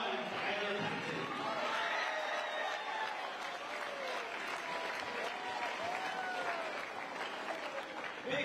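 Sustained applause from a crowd at a student basketball event in a gym, dense clapping and cheering that stays loud and even across the whole stretch, with voices mixed in.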